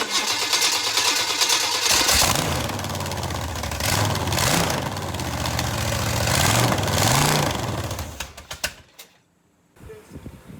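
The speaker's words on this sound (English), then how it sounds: "We're gonna try to fire it up now, see if it's skipping, see what it sounds like." A freshly installed engine in a Chewy van cranks, fires and runs with a loud, uneven idle and revving swells before cutting off abruptly near the end, leaving a few faint knocks.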